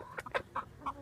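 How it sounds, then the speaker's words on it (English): Soft clucking from chickens nearby, several short quiet clucks spaced irregularly over a second. "Okay, I got 13 chickens."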